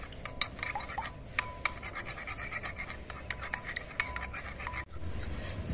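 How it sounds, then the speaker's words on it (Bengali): Fork or whisk scraping and tapping against a bowl while beating eggs with ginger and garlic paste, a steady fast rhythm of sharp clicks that pauses briefly near the end before a soft rumble returns. "ডিমটা আমি বেশ কিছুক্ষণ ফেটিয়ে নিয়েছি"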